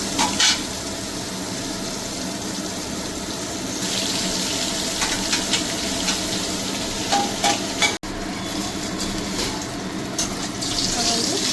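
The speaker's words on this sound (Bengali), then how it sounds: "আমার বেগুনটাও ভাজা হয়ে যাচ্ছে।" Cut eggplant pieces fry in hot oil in a pan in a home kitchen, after hilsa fish was fried in the same oil, giving a steady, close sizzling hiss that runs the whole time with light stirring clatter.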